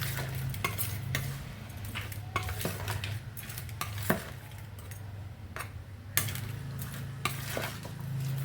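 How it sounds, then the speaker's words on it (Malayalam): Food being stirred and mixed in a pan for a Kerala-style beef dish, with repeated scraping and clinking of a spoon against the pan over a low steady hum, fairly close and continuous. "നന്നായിട്ട് മിക്സ് ചെയ്ത് കൊടുക്കാം."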